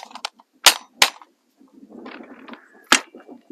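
A 6mm ARC rifle being zeroed fires two close, sharp shots, then a third a couple of seconds later, with faint handling noises and soft murmuring between them.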